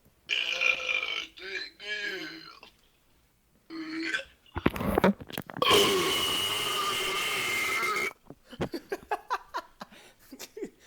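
Several loud, drawn-out burps come one after another, the longest rumbling for about two seconds, with short bursts of talking and laughter between them.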